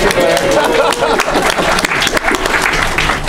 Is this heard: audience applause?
yes